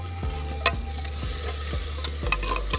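Tomatoes added to onions frying in a pot bring a steady close sizzle, with a few spoon stirs and taps against the pot, and no talking.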